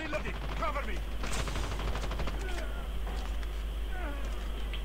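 Rapid bursts of gunfire from the mobile shooter Call of Duty Mobile crackle in quick succession alongside game effects and a voice talking over the action.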